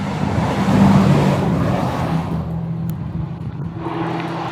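An Aston Martin driving past after the Le Mans Classic: a loud engine roar close by that swells and then recedes as the car moves away, leaving a lower steady hum of traffic.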